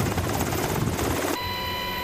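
A military helicopter hovers over a rappelling exercise by special forces troops, its dense, pulsing rotor roar filling the scene loudly and continuously, then shifting abruptly to a steadier whine with a high-pitched tone.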